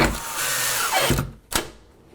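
A power drill drives screws to fasten wood to a wall, giving a close whirring buzz that winds down and then a short second burst, with no talk.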